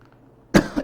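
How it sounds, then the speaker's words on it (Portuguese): A 77-year-old man gives a single sharp, close cough, a brief rough burst with a smaller second push right after, preceded by a quiet room. "estou tossindo, né? Essas tosse é sintoma, né?"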